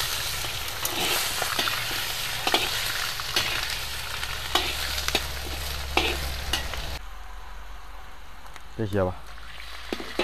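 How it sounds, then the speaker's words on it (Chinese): Pork stir-fries in a wok with scallion, ginger, Sichuan peppercorns and cooking wine, a dense crackling sizzle punctuated by spatula scrapes, then dropping to a quieter simmer; someone speaks briefly near the end. "葱姜、花椒粒，还有料酒，炒透啊！"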